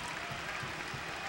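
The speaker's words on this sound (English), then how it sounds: "the Gamble crowd applauds the defensive effort" Applause from the Gampel crowd at a UConn men's basketball game against Quinnipiac, a steady, distant wash of clapping and crowd noise with no clear peaks.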